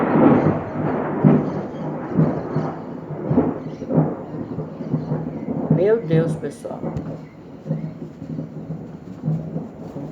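Thunder rumbles during a storm, low rolling booms recurring under a person speaking throughout, with faint rain in the background.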